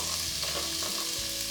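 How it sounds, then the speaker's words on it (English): Oil sizzles and crackles steadily as chopped onion fries in a hot pan, a continuous frying hiss with light stirring, and nobody talks. "And you can hear the sizzle"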